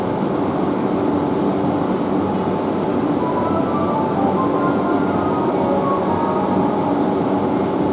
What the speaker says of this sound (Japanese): 3番線から各駅停車赤羽岩淵行きが発車いたします。